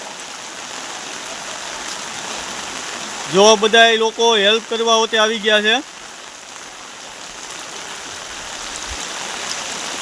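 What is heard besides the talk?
floodwater flowing over a river bridge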